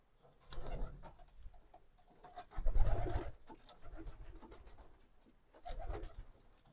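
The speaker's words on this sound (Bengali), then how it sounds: "এখন সব কবুতর বাইরে বের করে দিই" Domestic pigeons released outdoors after rain coo softly and nearby, in several short rolling bursts separated by quiet gaps.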